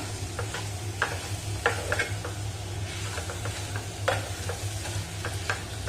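Melting jaggery stirred in a pan for a banana sweet, a steady soft sizzle broken by scattered light scraping strokes of the spoon, close and moderately quiet with no talking.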